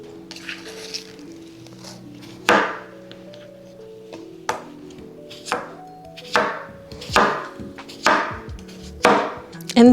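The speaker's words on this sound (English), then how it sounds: "all of my other ingredients, I'm just going to give a rough chop" Vegetables for a green juice being roughly chopped on a cutting board, about eight sharp knife strikes spaced a second or so apart with faint handling noises in between, close and loud.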